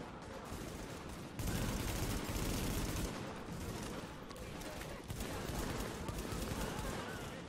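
Gunfire in The Division, dense continuous bursts of rapid shots forming a loud, sustained fusillade that surges and eases in waves, with brief spoken words mixed in.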